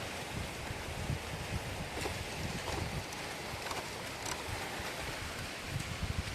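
Steady wind buffets and roars across the microphone in a palm forest, a constant broad rush with gusty thumps throughout.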